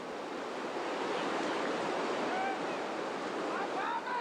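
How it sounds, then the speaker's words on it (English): Boat splashing down Grave Creek Falls rapids on the Rogue River in Oregon, a continuous rushing roar of whitewater and spray with wind buffeting the microphone, faint cries rising near the end. "Lots of splash, but no problem."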